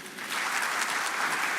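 An audience applauds for Mr. Murthy at an ABP Ideas of India forum, dense and steady clapping from a crowd that rises quickly and holds without a break.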